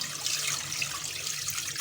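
A steady stream of water pours into a cooking pot for chicken soup stock, a continuous bright splashing rush, close and moderately loud, with no pauses across the short stretch.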